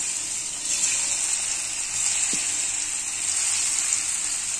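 Lentil and coconut dhoka pieces, made from chana dal, frying one by one in hot oil in a kadai, heard as a continuous bright sizzle holding steady at moderate loudness throughout.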